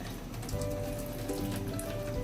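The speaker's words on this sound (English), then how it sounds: "I'm just gonna go ahead and pour it in here so that it can drain out the water some more" Water drains steadily from boiled tomatoes poured into a strainer, a continuous splashing patter like rain on a surface, close and alone throughout.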